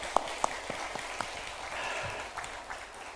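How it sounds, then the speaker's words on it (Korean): A church congregation applauds event workers during a Sunday service: steady, moderately loud clapping from many hands fills the space, with a few sharper individual claps standing out at the start. "우리 수고한 분들에게 우리 박수 한번 하고 예시다"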